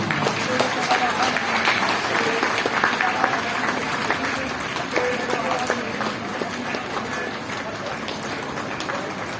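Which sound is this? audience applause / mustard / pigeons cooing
audience applause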